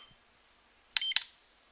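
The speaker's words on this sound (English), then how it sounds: "Press and hold, it'll beep" A LiPo battery charger beeping as charging starts: a short burst of two or three quick, high electronic beeps, close and clear against near silence.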